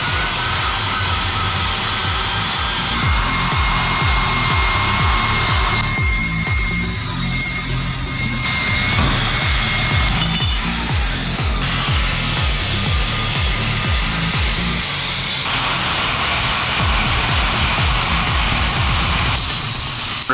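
A grinder strips paint and powder coating off a steel receiver blank, giving a loud, continuous abrasive whine with rough grinding texture that shifts slightly in pitch as the tool bears on the metal, with no talking.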